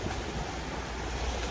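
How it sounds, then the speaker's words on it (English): Ocean waves wash continuously on a shoreline at a Subic Bay fishing area, a dense, steady rushing roar with wind buffeting the microphone and no talk. "The sound of the waves"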